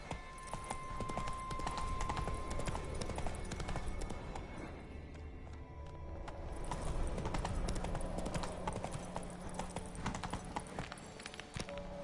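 Roach the horse gallops in The Witcher 3: Wild Hunt, a steady rapid drumming of hooves that carries on throughout, close and fairly loud, over faint game ambience.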